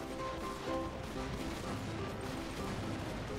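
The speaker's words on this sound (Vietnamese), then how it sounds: "Sao súng đạn vậy bắn ghê vậy?" Rapid video-game gunfire from armed zombies in Minecraft, a dense, continuous volley of cracking shots that goes on without pause, loud and close with no talking.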